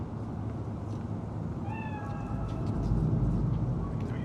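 A cat in the video game Cyberpunk 2077 gives a single drawn-out meow, moderately loud over a steady rumbling ambient background.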